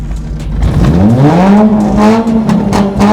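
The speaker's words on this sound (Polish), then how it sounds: "żeby wam pokazać jak brzmi rynna zamiast wydechu" A car engine fitted with a rain gutter in place of its exhaust revs loudly and close, the pitch sweeping up and holding in a rough, droning roar.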